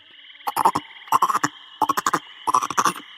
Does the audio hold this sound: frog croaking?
yes